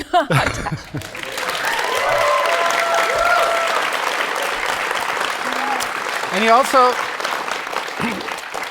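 Studio audience applause for Tash during an interview with a musician, a broad wash of clapping with scattered chuckles, preceded by a brief spoken phrase and with voices talking briefly near the end.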